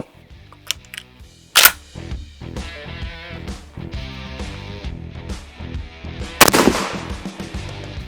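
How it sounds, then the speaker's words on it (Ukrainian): Two sharp, loud shotgun blasts of 000 buckshot ring out several seconds apart during a safety-glasses crash test, with lighter clattering and mechanical clicks in between. "Здійснюємо постріл третій. Патрон споряджений дроб'ю 6 нулів"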